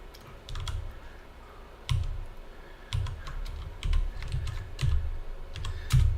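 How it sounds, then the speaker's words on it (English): Keys clack in quick irregular bursts as code is typed on a computer keyboard, close and fairly loud, with short pauses between runs of keystrokes and no talking. "looks like I forgot to finish typing something"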